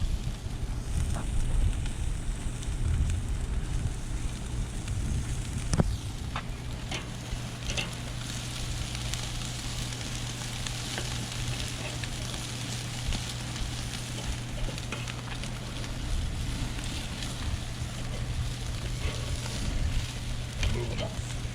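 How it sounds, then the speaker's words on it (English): Meat sears on a camp grill at a seaside campsite, giving a steady close sizzle and crackle that runs throughout with light outdoor wind noise. "We are just about done with the sear on these right here."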